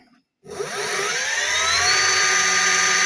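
After a short silence, a Bosch Performance Line CX e-bike motor on a Chinese 17 A controller spins up to a loud, steady electric whine with layered rising tones, close and alone.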